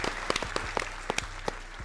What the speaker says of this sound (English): Can we get a hand clap, y'all?